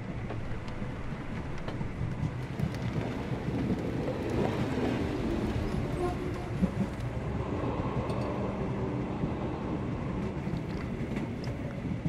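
A train travels steadily in Sherlock Holmes The Awakened, giving a continuous low rumble and rattle of rail cars that holds at an even level throughout.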